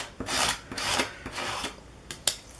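Modeling paste being scraped off a stencil on a mixed media art surface: four or five dry, rasping strokes, each a short rough swipe with brief pauses between, close and moderately quiet, with no talking.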